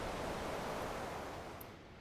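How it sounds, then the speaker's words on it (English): Loud waterfalls in the video game Ark: Survival Evolved, a steady broadband roar of rushing water that fills the whole clip at close range with no break. "due to very loud waterfalls, we are going to be moving"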